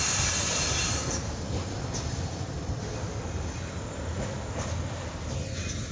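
A Kiamichi Railroad train with its engine rolls past in a steady, loud rumble of rail cars, with wheel noise and faint squeals running throughout.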